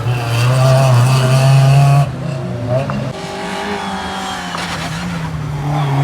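Rally cars racing at Cadwell Park, including a Ford Puma, with a loud engine drone that drops in pitch, then a steadier revving roar from a passing car that swells again at the end.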